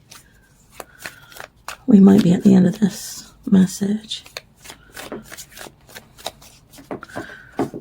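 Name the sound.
cards being shuffled during a card reading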